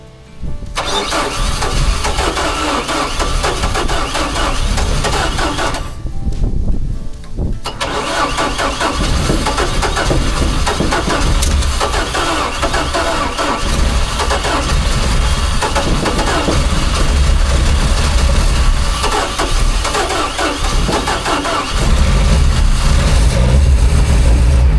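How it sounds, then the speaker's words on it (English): Landing craft engine under refit, a previously dead motor, cranks, catches and settles into a loud, steady running drone, with a brief break in cranking before it fires and keeps going. "I cranked it again, and it slowly came to life."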